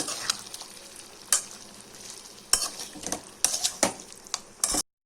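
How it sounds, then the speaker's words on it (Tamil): Chicken in a pan is stirred with a ground ginger, garlic and pepper paste, soft frying underneath and several sharp scrapes and clacks of the spoon against the pan, irregularly spaced, with no talking. "நம்ம அரைச்சி வச்சுருக்க பேஸ்ட்டை ஊற்றி நல்லா கிண்டிடுங்க"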